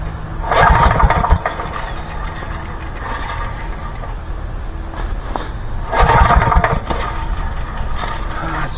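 An old 1985 generator left for dead is pulled over, two loud churning bursts of mechanical cranking separated by quieter rattling, without firing into a steady run.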